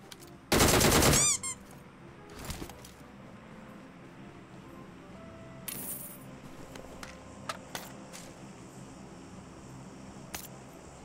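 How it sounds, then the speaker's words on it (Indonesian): VSS rifle gunfire in an online shooter video game: a loud, rapid burst near the start, followed by faint scattered clicks and taps over a quiet background. "Ya kedengaran tembakannya."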